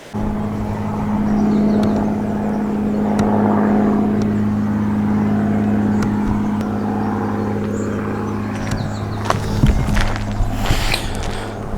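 An airplane flies overhead somewhere outdoors in Spain, giving a steady, fairly loud droning hum that holds for the whole stretch, with a few scattered clicks near the end and no voices.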